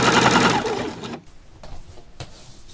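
A sewing machine runs fast, stitching a narrow rolled seam on a knit cardigan, a loud close whirring buzz for about a second before it stops, leaving faint clicks.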